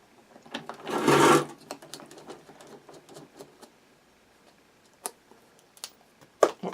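A screw is backed out of a toy dump truck wheel with a driver and hex extension, giving a short whirring burst near the start followed by scattered faint clicks and taps in a quiet room.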